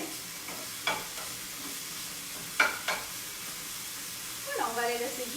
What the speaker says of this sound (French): On va les faire bien dorer